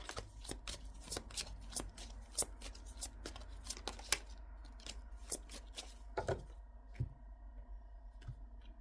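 Tarot cards being shuffled in quick, crisp riffling bursts, a steady run of sharp papery flicks up close with a short pause near the end.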